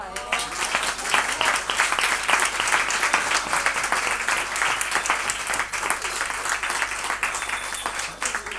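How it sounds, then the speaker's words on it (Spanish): An audience at a musical presentation of a children's audio story breaks into sustained applause, many hands clapping densely and evenly at close range for several seconds. "Aplauso"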